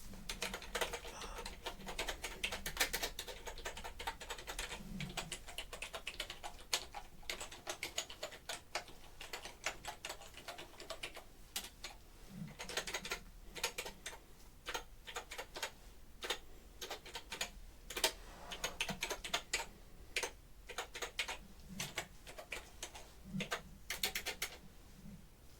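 Someone types on a computer keyboard in an ASMR setting. The keys click close and steadily for the whole stretch in quick, irregular bursts, with no talking.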